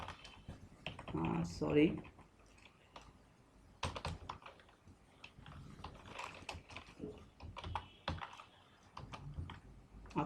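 Computer keyboard keys clatter in quick bursts with backspace presses, close and fairly faint, while someone talks intermittently over the typing.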